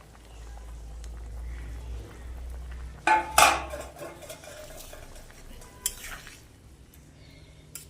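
Fried eggs being stirred into a cauliflower and potato egg curry in a pan: a couple of sharp spoon scrapes and clinks against the pan over a soft simmer, with a quieter knock later.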